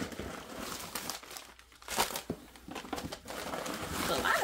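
Paper stuffing inside a Telfar handbag crinkles and rustles softly in irregular bursts as it is handled up close, with a quiet indoor background.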